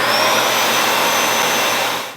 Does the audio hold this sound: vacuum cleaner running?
yes